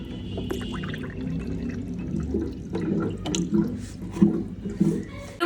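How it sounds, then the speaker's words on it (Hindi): A pot of water boils for spaghetti, giving a steady bubbling, watery rumble with small splashy pops close by. "यहाँ पे स्पैगेटीज मैंने रखी हुई हैं बॉयल होने के लिए"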